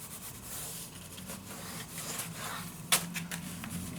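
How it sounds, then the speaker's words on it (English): Paper being burnished flat onto a travel mini album, a steady soft rubbing and scraping close by, with one brief sharp tap near the middle. "Now burnish that down."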